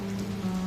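Steady rain patters softly and evenly under a low, sustained hymn accompaniment for a brief moment.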